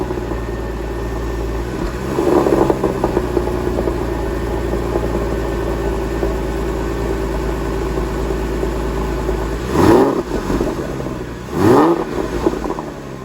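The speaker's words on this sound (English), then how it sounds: "I'll put a cold start here." A Porsche 911 996 with a Fister exhaust cold-starts and holds a steady, loud, droning high idle, with a few short revs blipping through near the start and twice toward the end.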